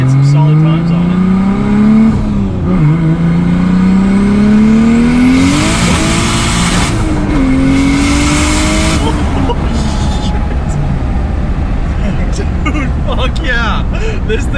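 A 700hp Lexus IS300 with rolling anti-lag accelerates hard, its engine note climbing through gears in long rising sweeps with brief shift dips, loud and close from inside the car, with excited voices talking over it.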